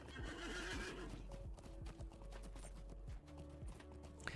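Horse hooves clip-clop in a quick, steady rhythm alongside whinnying and neighing in the Lord of the Rings Online video game, faint and continuous throughout.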